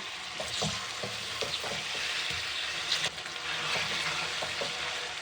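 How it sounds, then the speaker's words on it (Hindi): Chicken fries in a kadhai for a chicken and capsicum curry: a loud continuous sizzle close by, with scraping stirs and spatula taps throughout and no voices. "कलर चेंज होने तक हम चिकन को फ्राई करेंगे।"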